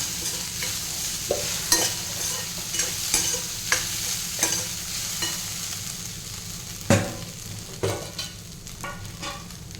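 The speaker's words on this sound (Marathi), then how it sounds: "इथे साबुदाणा टाकून घ्यायचा आहे जो आपण भिजत घातलेला होता आणि तो छान परतून घ्यायचा आहे" Soaked sabudana (tapioca pearls) being sautéed and stirred in a pan, a steady soft sizzle under repeated spatula scrapes and knocks against the pan, close and alone with no talk.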